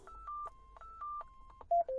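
A Yaesu FTM-400 radio sounds a short run of electronic beeps confirming an APRS message acknowledgement, clear close tones in an uneven sequence ending with two louder beeps, with no talking.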